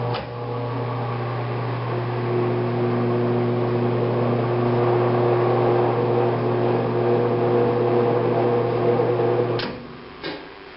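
A Thunderbolt siren runs in steady mode, giving a loud, constant droning wail with strong held tones that lasts almost ten seconds before stopping abruptly, followed by a brief clunk.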